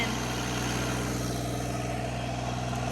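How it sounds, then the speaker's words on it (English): A Branson tractor engine runs steadily with a low, constant diesel-like rumble, close and unbroken throughout. "We love our Branson tractors."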